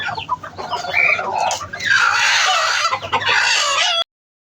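Backyard hens clucking and squawking loudly and close, with a rooster-like crow mixed in, a busy continuous run of calls with no talk over them.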